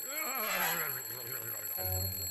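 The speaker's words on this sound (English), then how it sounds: "Then the alarm goes off." An alarm clock rings in a movie scene, a steady electronic beeping with harmonic tones that holds throughout, then shifts to a lower repeated buzz near the end. No talking is heard.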